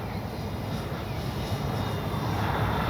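A Dynam Beaver V2 radio-controlled airplane runs its electric motor at about half throttle, a steady droning hum heard from a distance in open air.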